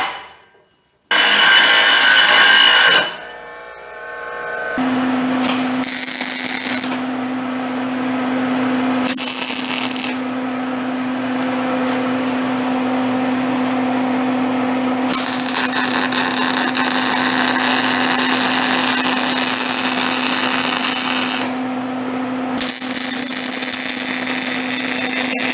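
A power tool grinding a bevel onto metal pipe ends for welding, a loud steady whine that starts and stops several times before running continuously, with short pauses between passes.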